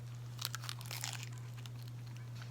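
Soft, close crunching and crinkling bites of a bean burrito filled with black beans, Swiss chard, arugula, lettuce and kale, eaten mukbang style, with scattered chewing and wrapper sounds over a steady low electrical hum.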